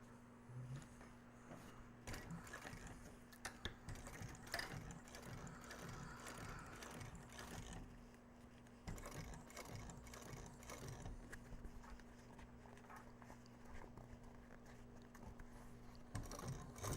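A sewing machine stitches the seam of a mega accordion wallet, a steady, fairly faint mechanical whir and rapid needle ticking that runs continuously without speech.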